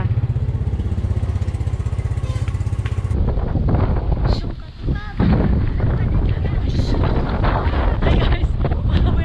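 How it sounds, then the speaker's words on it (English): Strong wind at a beach in the Philippines at low tide buffets the microphone with a loud, constant rumbling roar, briefly dipping midway, while people talk underneath. "Wind is too strong."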